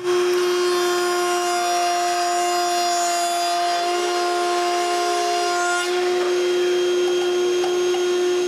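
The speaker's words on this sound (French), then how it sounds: "je vais sur la table de toupie pour tourner mon bloc de bois rond" A router table shapes a round wooden block, its motor whining loud and continuous with a steady high tone throughout, the pitch shifting slightly partway through as the cutter engages the wood.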